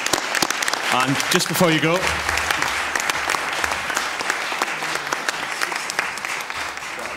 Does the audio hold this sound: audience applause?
yes